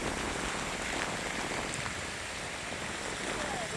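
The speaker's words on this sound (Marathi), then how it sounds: "जबरदस्त पाऊस आहे, जबरदस्त. सातारापासून आम्ही निघालोय पण कंटिन्यू पाऊस आहे, कंटिन्यू सतत." Continuous heavy rain falling steadily during a journey from Satara toward the Meroling temple in Jawali taluka, a dense, even hiss that stays constant and loud throughout with no pauses or talk.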